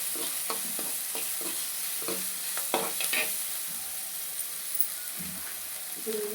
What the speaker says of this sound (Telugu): ఉల్లిపాయ ముక్కలు ఎంత బాగా వేగితే ఉప్మా అంత టేస్టీగా ఉంటుంది.